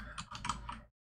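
Code being typed on a computer keyboard, a brief quiet burst of several rapid key clicks, close and alone, ending abruptly in silence.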